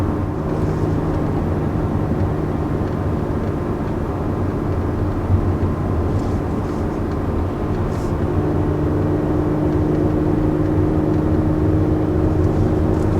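A 2019 Audi S4 Black Optic on the move, its engine giving a steady, continuous drone with road and wind noise, holding an even level throughout with no talk.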